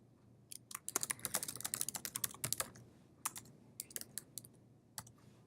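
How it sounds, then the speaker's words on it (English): Close typing on a computer keyboard, a dense burst of rapid key clicks followed by a pause and then scattered shorter runs of keystrokes, with no voices over it. "as I type, it shows you how many characters I have left"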